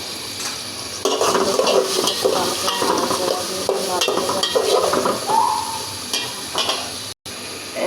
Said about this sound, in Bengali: নাড়াচাড়া দিয়ে ভাজা ভাজা করে নিচ্ছি।